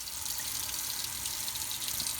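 A kitchen tap runs water steadily to rinse a Brita filter pitcher, giving an even, unbroken hiss that stays at a constant level with no voices.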